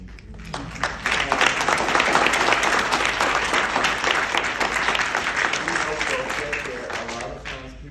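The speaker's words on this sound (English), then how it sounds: "I want us to take a moment to applaud this image of visibility." An audience at a Black trans women gathering applauds steadily for several seconds, a dense wash of many hands clapping close by, with a few voices mixed into the crowd noise.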